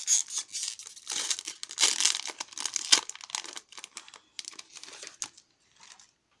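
A Magic: The Gathering Shadows over Innistrad booster pack is torn open. Close, busy crinkling and ripping of foil wrapper comes in rapid bursts, then tapers off into a few light rustles.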